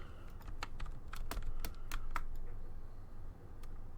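Fast typing on a computer keyboard, with clusters of sharp key clicks in uneven bursts, close and fairly quiet over a low background hum, no talking.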